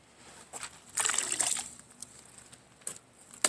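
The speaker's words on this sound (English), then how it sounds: "This is just barium reacting with water." A small chunk of barium metal reacts in water, giving soft fizzing and trickling bursts, faint and close, with a brief stronger hiss midway.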